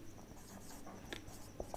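Writing by hand during a physics lecture on vector subtraction and relative velocity, faint scratchy strokes with a few sharper taps near the end, quiet and close.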